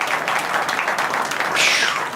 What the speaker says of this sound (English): Let's give Tyler a round of applause